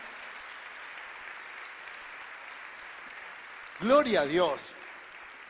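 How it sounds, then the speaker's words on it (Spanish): A church congregation applauds in a steady, even wash of clapping that runs for several seconds, then a voice briefly speaks over it near the end. "Le damos un aplauso."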